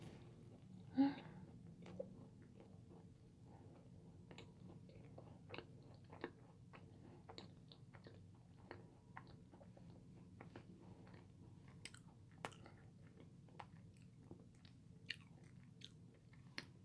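A chocolate mint Korean macaron is chewed close to the mic, with soft crunchy bites and sticky mastication across the quiet stretch. An early louder bite stands out among the small clicks that follow.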